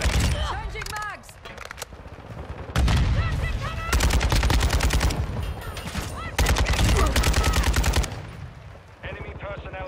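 Rapid bursts of M13B rifle fire in Modern Warfare 2 multiplayer, loud sustained automatic volleys broken by short pauses, with gameplay effects around them.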